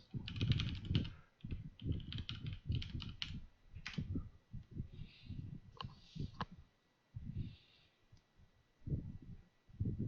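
Keys clatter on a computer keyboard as a command is typed into an Ubuntu Linux terminal. Quick bursts of close, crisp keystrokes arrive in uneven groups with short pauses between them, and no voice is heard.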